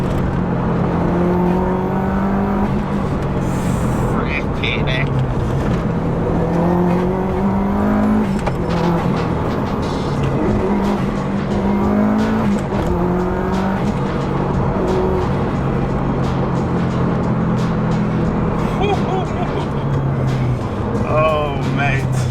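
A Subaru 22B replica car revs and accelerates hard with tyres squealing on a greasy surface, the engine note rising and falling in repeated surges throughout, with someone talking over it.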